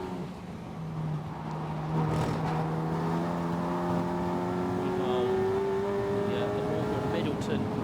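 Race cars at the Snetterton circuit during a 750 Motor Club Roadsports race, engines droning and rising in pitch as they pass, under continuous excited race commentary.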